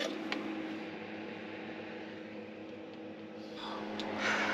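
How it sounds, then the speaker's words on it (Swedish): An electric heater fan runs steadily in a workshop, a continuous even whir with a faint hum, with a couple of small clicks and brief rustles near the end. "Står en värmefläkt och puttrar."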